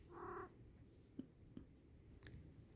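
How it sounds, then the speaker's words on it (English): A pet cat gives one short, fairly loud meow close by in a quiet indoor room, followed by faint clicks and soft movement. "what is all that meowing for?"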